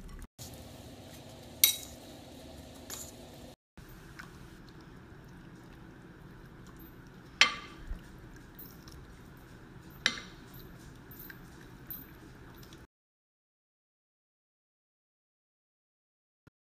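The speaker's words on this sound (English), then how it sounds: "So I'm tossing together my sauteed stuff and my zoodles in this bowl" Sautéed vegetables and zucchini noodles being tossed together in a bowl, with scattered sharp clinks and taps of utensils against the dish over a quiet background before falling silent.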